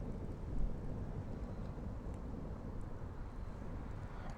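Wind blowing outdoors at dusk, a low, steady rumble buffeting the microphone with a slightly stronger gust early on and no speech.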